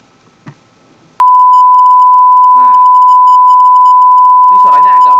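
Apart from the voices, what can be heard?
1000 Hz sine tone generated in MATLAB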